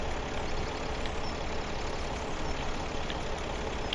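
Tractor engine running steadily with a baler hitched in Farming Simulator 2017, pulling a Massey Ferguson-style old baler; a continuous, dense mid-low rumble holds at an even level throughout with no voices.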